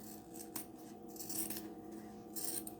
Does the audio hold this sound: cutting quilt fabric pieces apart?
yes